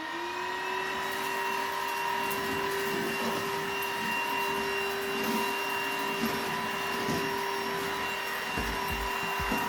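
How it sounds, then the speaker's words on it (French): Dibea D18 cordless stick vacuum running at high power with a rotating brush head, a steady whining motor hum that spins up at the start and then holds an even pitch, with faint bumps and rustles over it. "on va mettre en route l'aspirateur"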